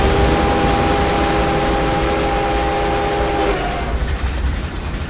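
A video game train rumbles along steadily with a sustained horn-like tonal blare that cuts off near the end, leaving the rolling noise alone.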